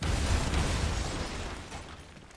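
A loud explosion in the Batman: Arkham Asylum video game, a broad rumbling blast with debris crackle that fades over about two seconds.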